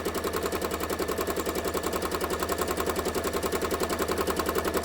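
A sewing machine runs fast in a sped-up stretch of thread painting, hammering out a dense, even, rapid rattle of stitches that never pauses, close and steady throughout.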